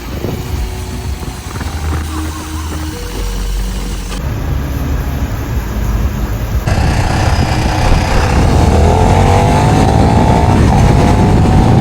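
A KTM 1390 Duke motorcycle is ridden in the rain, its engine loud and close as the revs climb and shift, over constant rushing wind and road noise.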